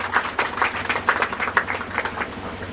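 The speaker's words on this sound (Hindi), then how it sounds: "तो मैं चाहूँगा एक बार जोरदार ताली आप अपने लिए बजाइएगा, जोरदार।" An audience at a Jharkhand community student-felicitation ceremony in 2023 claps in a dense, steady burst of applause that fills the whole stretch without pause.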